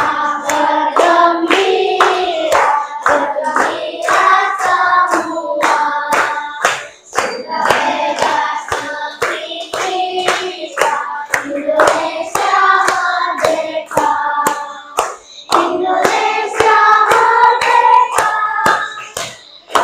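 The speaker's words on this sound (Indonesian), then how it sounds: "Kita nyanyi sama-sama sambil tepuk tangan." Children in a classroom clap along in a steady rhythm while singing together with a teacher, sharp regular hand claps punctuating the loud, close group singing throughout.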